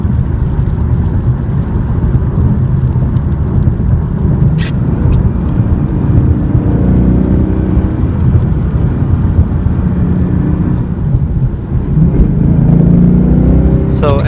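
A 2016 Ford Mustang GT Fastback with a 5.0L V8 drives on a wet road, its steady engine drone and tire hiss continuous throughout, with a faint swell of throttle near the end.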